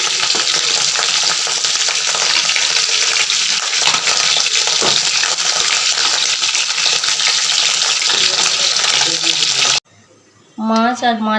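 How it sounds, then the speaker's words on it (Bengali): Fish frying in hot oil in a wok, a loud steady sizzle with some stirring that runs on until it cuts off, and a brief voice is heard at the very end. "দুটো কড়াইয়ে আজকে মাছ ভাজতে দিয়েছি, মাছটা তাড়াতাড়ি হয়ে যাবে।"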